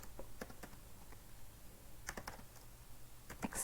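Code being typed on a computer keyboard gives soft, quick key clicks in small irregular clusters, close but faint over a low room hum, with no talk.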